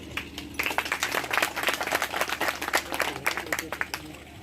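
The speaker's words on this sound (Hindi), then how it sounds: "भाई तालियों में कंजूसी न करें।" Scattered hand claps from an audience at a Rathore community celebration of Durgadas Rathore's birth anniversary, a loose patter of clapping that rises and thins out over a few seconds with steady crowd murmur underneath.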